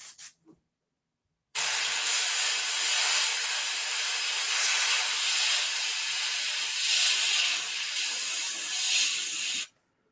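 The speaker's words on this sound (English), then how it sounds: "Let me put that in the airbrush." An airbrush sprays paint onto a leather piece with a steady, loud hiss lasting about eight seconds, after a brief quiet start with a faint click.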